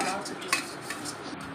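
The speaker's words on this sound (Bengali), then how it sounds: "হাঁড়িতে একটু আমি তেল মাখিয়ে নিচ্ছি।" Oil is rubbed around the inside of a metal cooking pot before layering chicken biryani, giving soft close scraping and rubbing with one sharp metallic clink near the start.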